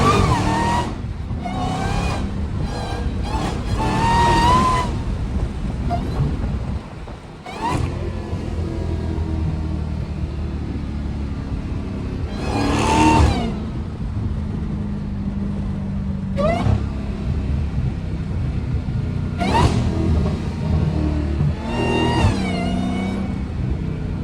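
A Dodge Hellcat engine blips and revs repeatedly in sharp bursts over a steady rumbling idle, the loud roars spaced a few seconds apart and close by.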